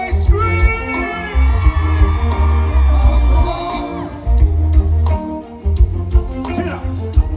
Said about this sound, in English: All my ladies, make some noise, scream.